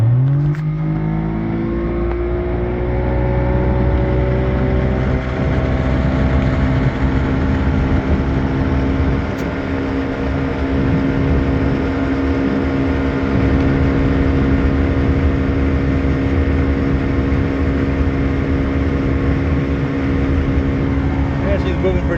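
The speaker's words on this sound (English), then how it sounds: "Now the motor's running right." A propeller aircraft engine runs loud and close, its pitch climbing briefly at the start before settling into a steady, even drone that holds for over twenty seconds.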